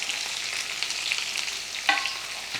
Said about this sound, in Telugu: ఈ ఉల్లిపాయల్ని మంచిగా లైట్ గోల్డెన్ షేడ్ వచ్చేదాకా ఫ్రై చేద్దాం.